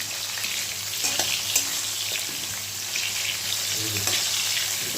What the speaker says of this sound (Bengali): ভাজা হোক নুন দিয়েই ভাজা করবো এটাকে